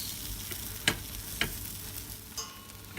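Pav buns toasting in butter on a very small tawa, a soft, steady sizzle with a few faint clicks and taps of the pan, heard alone without voices.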